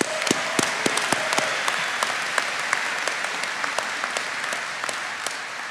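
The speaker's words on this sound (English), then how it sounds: "Let's give them another round of applause" A large audience at a shipbuilding apprentice school graduation claps for award recipients, a dense, steady round of applause with sharp individual claps standing out, loud and continuous throughout.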